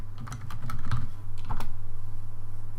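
Keys clatter in a quick, irregular burst of typing on a computer keyboard during MATLAB work, close-up over a steady low electrical hum, with no talking.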